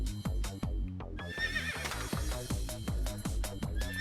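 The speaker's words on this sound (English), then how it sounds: "the horse is freaking out." A horse neighs in a PSP video game, a wavering whinny rising over repeated thumping game sound effects and clip-clop beats, moderately loud amid busy in-game audio.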